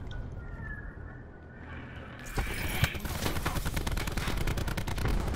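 Gunfire in the video game Black Ops 4 starts after a quieter opening and becomes loud, rapid automatic fire that continues to the end.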